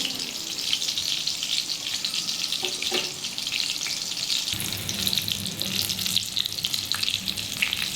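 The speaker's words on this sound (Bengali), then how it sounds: "লাল লাল করে ভেজে নিতে হবে সময় ধরেই বন্ধুরা ভাজতে হবে গ্যাসের ফ্লেমটা একদম কমানো" Chicken pakora deep-frying in oil on a low flame makes a continuous crackling, bubbling sizzle, close and even, that grows a little fuller partway through, with no voices.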